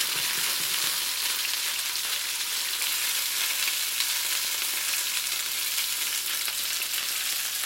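Lemongrass chicken wings fry in a hot pan and are turned over, making a loud, dense, unbroken sizzle that fills the whole stretch at close range. No voices.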